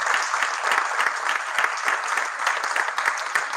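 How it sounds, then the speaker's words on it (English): An audience claps for the event crew in a steady, lively round of applause with individual claps audible in a brisk rhythm, continuous and fairly close throughout. "Give them a round of applause."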